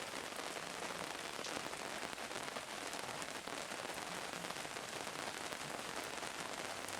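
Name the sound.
rain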